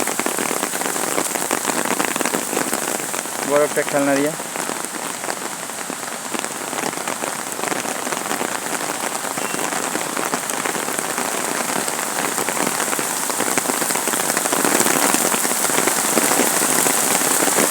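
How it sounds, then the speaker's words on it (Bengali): Steady rain falls continuously on the grounds of an aviation museum, a dense, even hiss that barely changes throughout, with a brief voice heard near the start. "বৃষ্টি পড়া শুরু হয়েছে"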